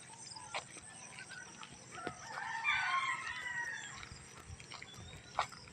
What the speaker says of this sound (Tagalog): Ayan oh, manok.